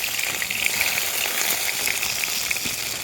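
Pieces of fresh pond fish frying in hot oil in a wok, a continuous close hissing sizzle with crackling pops, steady and fairly loud throughout.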